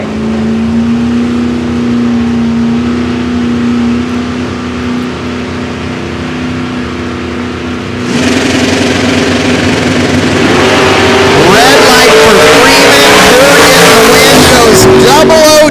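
Drag racing cars at an IHRA Hot Rod Classic at Darlington Dragway, one a Nova, with a steady engine drone that swells into loud, rising revs and a launch roar partway through, under a commentator's voice.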